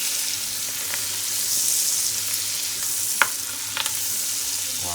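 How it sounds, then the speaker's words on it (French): Food browns in a hot frying pan, a steady sizzle and frying hiss running throughout with a couple of brief utensil clicks near the end, no talking. "bien le faire dorer sur toutes les faces"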